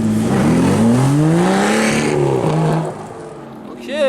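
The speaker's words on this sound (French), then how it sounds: "Les premières voitures arrivent, AMV 12 et AMV 8" Aston Martin V12 and V8 supercars roll in at a supercar meet, their engines revving and rising in pitch up close, with another rev climbing sharply at the end.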